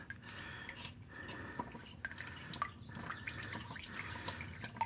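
Motor oil dripping and trickling from a 2015 Toyota Corolla oil filter housing into a drip pan, a faint, irregular patter of drops and splashes with no talking.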